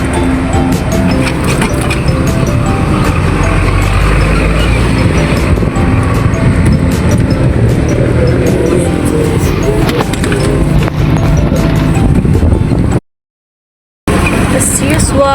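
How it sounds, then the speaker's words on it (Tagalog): Car traffic on the road rolls by in a steady rumbling wash with scattered clicks and knocks, continuous until a brief silent gap near the end before resuming. "As usual, traffic na naman guys. Traffic na naman."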